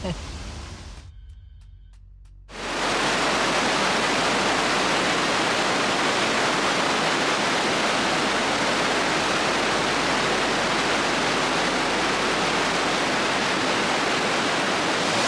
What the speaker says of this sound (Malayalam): അപ്പോൾ നമ്മൾ വാട്ടർഫാൾസിൻ്റെ അവിടെ എത്തിയിട്ടോ